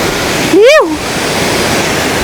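A hidden waterfall near Rachakonda Fort roars in a constant loud wash of falling water, with one short rising-and-falling vocal call cutting through it.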